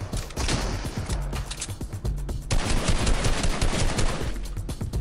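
Rapid gunfire bursts from the Fortnite video game, loud and continuous with dense automatic shots and a brief lull in the middle before another sustained volley, no speech heard.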